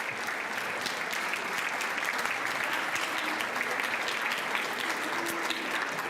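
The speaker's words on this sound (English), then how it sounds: "Let's give them a round of applause." An audience at a rising sophomore ceremony applauds faculty and staff, sustained, dense clapping from many hands that stays even and full for several seconds.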